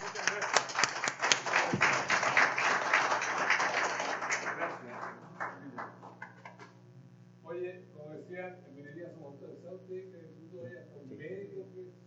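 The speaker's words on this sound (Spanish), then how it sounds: "lo único que les pido es un gran aplauso a todos ustedes" An audience at a 92nd anniversary ceremony in Punta Arenas breaks into dense applause for about four seconds, then it thins out and a voice carries on speaking over faint leftover claps.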